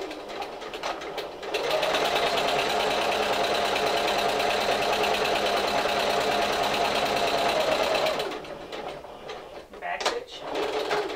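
A sewing machine stitches and backstitches fabric for a Simplicity 1562 pattern, running in a steady close whirring burst of about six seconds, with softer handling sounds before and after.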